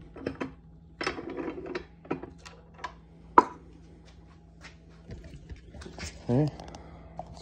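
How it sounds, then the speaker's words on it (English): A 1-ton arbor press folds a 90% silver Kennedy half dollar over a dapping block and Delrin ball, giving scattered close metallic clunks and ratchety creaks with quiet pauses and a steady low hum between them. "So we're gonna come over to our 1-ton arbor press."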